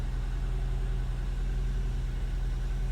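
A Nissan Maxima engine idles just after starting, a steady low hum with no revving and no people talking.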